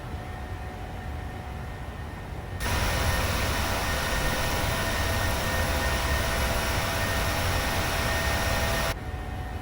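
Cabin noise of an SAS Boeing 737-600 climbing out after takeoff from Athens: a steady, broad engine and airflow roar that jumps louder partway through, holds evenly for several seconds, then drops back, with no talking.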